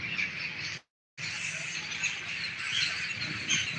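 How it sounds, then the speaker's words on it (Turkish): A huge flock of thousands of crows calling overhead, a dense continuous chorus of caws and chatter from near and far, steady and fairly loud, broken by a brief total silence near the start. "binlerce karga. Gene geldiler bak"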